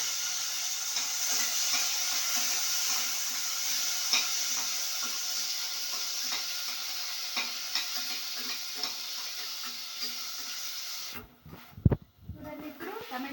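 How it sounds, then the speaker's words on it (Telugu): Tomatoes and curry leaves sauté in a pan with a steady, close sizzle and occasional stirring scrapes. Near the end a few louder knocks and clatters interrupt the sizzle. "కరివేపాకు వేసిన తర్వాత టమాటో వేసి దాన్ని బాగా మగ్గనివ్వాలి."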